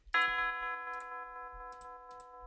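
A single drum-kit impact sample strikes once and rings out with a sustained metallic, bell-like tone that slowly decays, followed by a few faint clicks.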